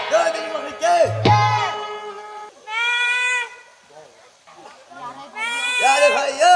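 A human actor in a stage play imitates a goat, giving several wavering, nasal bleats in separate bursts with pauses between, alongside a brief low thump.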